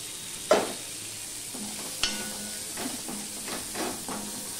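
Onion frying in a pan for a flat bean and garlic dish, a steady moderate sizzle and hiss with a few sharp spatula clacks and scraping stirs against the pan.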